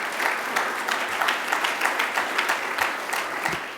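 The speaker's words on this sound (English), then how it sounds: "I'd like to also give all the speakers a round of applause" An audience at an annual accounting meeting applauds the speakers, a continuous round of clapping from a sizeable crowd, moderately loud and even throughout.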